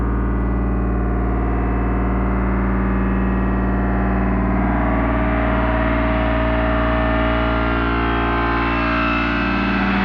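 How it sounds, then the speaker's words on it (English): A gong vibrating on its own without being struck, a loud continuous metallic drone with layered shimmering overtones that slowly swell and brighten over time, steady and unbroken. "The gong vibrate as if you were to hit it without contact."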